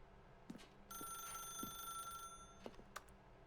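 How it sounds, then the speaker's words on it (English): A telephone rings in The Stanley Parable, one faint, continuous bell trill lasting over a second amid quiet background thumps. "Pick up the phone, and it will take us back home"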